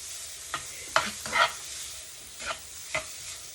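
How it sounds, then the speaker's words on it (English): Chicken fries in a pan and is stirred: a steady soft sizzle with several sharp scraping stirs of the utensil, close and clear, with no voices. "Now we're just going to keep stirring and stirring"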